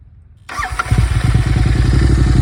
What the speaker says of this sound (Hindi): This is the exhaust you get.